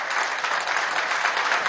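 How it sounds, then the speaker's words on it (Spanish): Applause from an audience at a pharmaceutical company event in Aragua, a dense, even wash of many hands clapping at steady loudness throughout. "desde aquí le vamos a dar un aplauso a ese esfuerzo que están haciendo"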